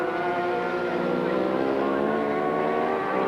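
Onboard engine note of a road-racing motorcycle ridden by a road-racing specialist at the 1991 Macau Grand Prix street circuit, a loud, steady, sustained multi-harmonic drone with slight pitch shifts and no pauses.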